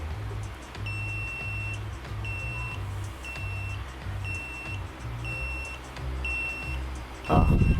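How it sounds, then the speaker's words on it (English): A BEAM I580 smart remote control's locator gives a steady run of high, short electronic beeps in evenly spaced bursts, repeating for several seconds over a low background hum, ending with a loud thump. "the remote beeps if you're looking for your remote, it beeps."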